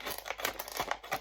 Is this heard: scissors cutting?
yes